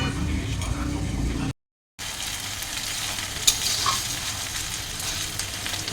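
Ash gourd frying in a pan crackles with a steady, close sizzle, broken by a half-second gap of silence before the hiss resumes with faint clinks.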